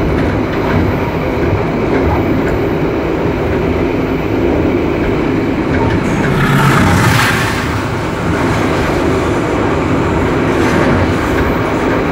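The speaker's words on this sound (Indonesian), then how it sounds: "Kereta api Jayabaya masuk stasiun Jatibarang." Jayabaya economy train pulling into Jatibarang station, a loud continuous rumble with rail clatter and a brief hiss midway, heard close without talk.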